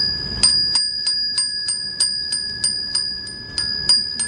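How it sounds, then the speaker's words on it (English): Hand bells, including one with a round ball inside, struck in a steady run of about a dozen bright, ringing strikes, close and clear with no talking. "Bells can be very musical."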